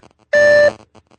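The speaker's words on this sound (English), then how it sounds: "Oh, it's ringing." A single loud electronic phone ringing tone, one steady two-pitch burst of about a third of a second, with faint murmuring voices before and after.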